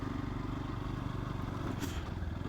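A Yamaha FZS motorcycle on an open-road ride, with steady engine drone and heavy wind rumble close to the rider, continuous and loud with no talk.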